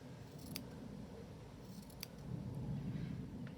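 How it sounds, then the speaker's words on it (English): Scissors cut fabric down to size in quiet, close snips, with a soft continuous rustle of cloth and a few sharp blade clicks. "I might have to cut this down smaller."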